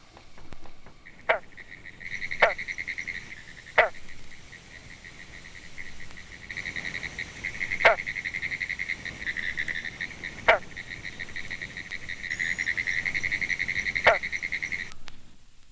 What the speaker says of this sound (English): the single notes of the territoriality call of individual green frogs can be heard throughout the summer